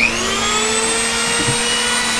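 A high-pitched rotary tool with a sanding drum whines steadily and continuously, with a faint grinding texture as it carves wood; no voices.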